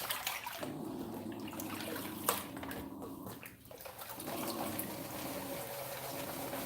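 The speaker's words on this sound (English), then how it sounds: "Move my dirt around inside this pan." Dirt and water swirling around inside a rippled gold pan indoors, a steady wet sloshing and trickling that runs near and continuous with a brief splash midway.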